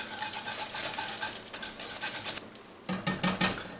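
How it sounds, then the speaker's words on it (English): A whisk scrapes and knocks steadily against a pot, breaking down cooked apples for apple butter, with rapid clinks and a brief pause before a few louder strokes near the end. "I'm going to use a whisk because most people don't have one of those blenders"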